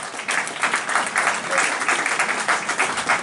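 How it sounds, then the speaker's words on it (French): Congregation applauding during a church sermon, a sustained wash of many hands clapping with a gently pulsing rhythm, fairly loud and steady. "Applaudissez Jésus."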